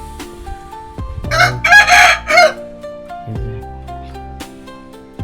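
Rooster in a hill village, crowing once loudly and close for about a second, with a long drawn-out call, against a steady background of tonal music and no talking.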